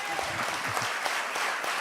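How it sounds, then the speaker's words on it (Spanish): A church congregation bursts into applause, a dense, steady clapping that fills the room for a couple of seconds with no voices over it. "Yo creo que Él se merece un fuerte aplauso."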